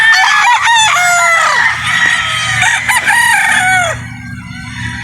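Chickens and roosters on a poultry farm with local banded birds, crowing loudly and repeatedly over one another with clucking beneath, close and continuous, fading slightly at the end.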